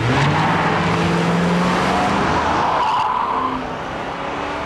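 Police car racing around a street course, engine roaring close and loud as it accelerates past, with tires squealing and skidding before the sound fades slightly at the end.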